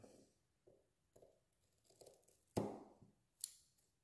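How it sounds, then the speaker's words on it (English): Scissors snip into the bristles of a round paintbrush, several quiet crisp cuts spaced about half a second apart, with a louder sharp crunch near the end, close and otherwise silent. "you could use scissors"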